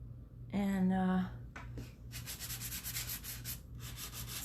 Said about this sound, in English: I sand to get a smooth finish, and then I also sand to get some distressing